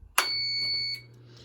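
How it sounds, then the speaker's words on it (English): An uninterruptible power supply in a radio shack gives a single sharp electronic beep lasting under a second, followed by a low steady hum. "The beep you heard is just a UPS I've got in the shack here"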